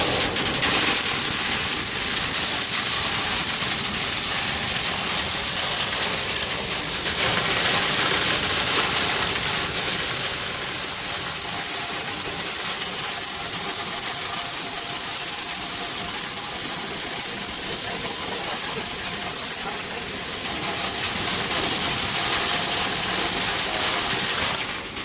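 Compressed air blasting through a building duct behind a duct guide ball during cleaning, a loud continuous roaring hiss that swells and eases in intensity over the stretch, close and alone without speech.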